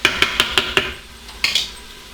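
Spiced tomatoes stirred in a pan with a utensil that knocks the metal: about five quick, sharp clinks in a steady rhythm, a brief pause, then two more scrapes, close and fairly loud.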